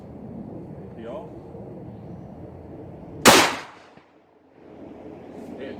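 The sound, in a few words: Mossberg Shockwave 20 gauge shotgun firing buckshot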